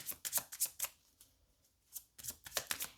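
Tarot cards are shuffled and drawn up close: crisp riffling flutters in two bursts separated by a brief quiet pause.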